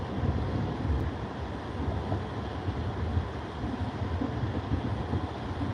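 Strong wind blows across the microphone at an outdoor trout fishing spot, a constant low rumbling buffet with no pauses and no talk.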